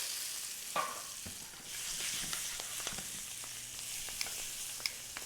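Onions hit a hot pan for chicken cacciatore with a sudden sizzle that settles into steady frying crackle, broken by a few spoon taps and scrapes.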